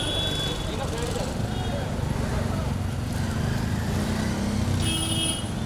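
A vehicle approaches along a busy roadside, its engine rumble and traffic noise rising under people talking, with a brief horn-like tone near the end.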